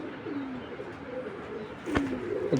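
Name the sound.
pigeons cooing at a pigeon sale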